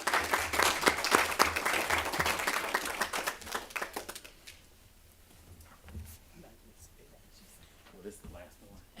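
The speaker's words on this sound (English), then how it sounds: "give her a round of applause for that" Applause from a live-streamed civic gathering honoring a clerk's certification: dense clapping for about four seconds that fades out, leaving quiet room noise with faint voices.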